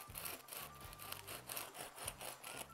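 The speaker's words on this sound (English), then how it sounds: "I'm gonna cut it like this, right in the center." A knife saws through the crust of a Dutch oven no-knead bread loaf with close, rhythmic back-and-forth crunchy strokes, repeated several times.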